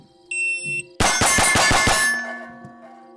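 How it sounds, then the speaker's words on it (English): A rapid string of six sharp metallic pings from pistol bullets striking a steel plate during a bill drill, each shot ringing out close and loud in quick succession. "we'll see if I can land any of these 6 shots on a steel plate doing a bill drill"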